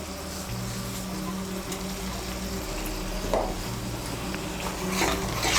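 A spice paste of turmeric and chilli powder with salt is stirred and fried in a pan. Steady soft sizzling runs throughout, broken by occasional scraping clinks of the spoon against the pan, with no voices.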